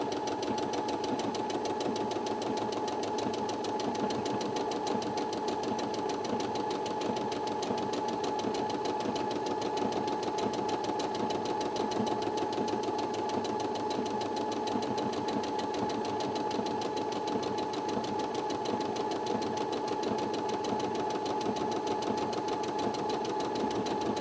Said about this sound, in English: bring the buttonhole lever down to measure the size of the buttonhole